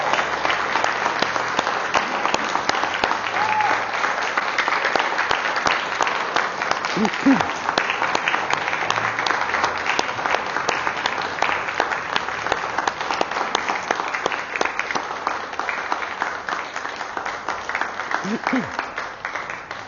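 A church congregation breaks into sustained, dense applause that holds steady at full strength for about twenty seconds, a continuous wash of many hands clapping together.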